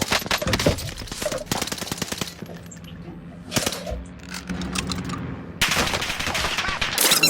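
Automatic gunfire from the video game Warzone comes in several loud, rapid bursts of shots, broken by short quieter gaps before the firing resumes.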